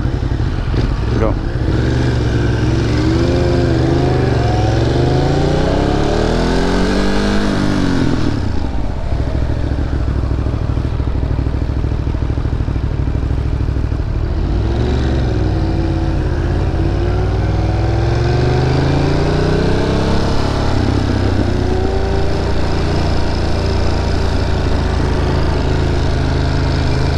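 A Triumph Street Triple RS motorcycle rides through New York City streets, its engine revving up and down in repeated sweeping pulls, loud and close throughout with steady traffic and wind noise.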